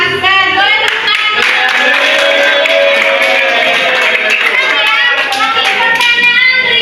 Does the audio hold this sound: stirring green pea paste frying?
no